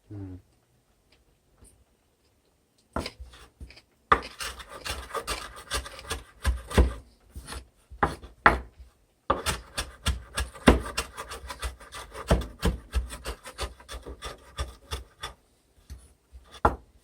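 A knife roughly chops parsley on a cutting board for an omelette, giving a close, uneven series of quick thuds and rasping scrapes that start after a short silence and run on steadily.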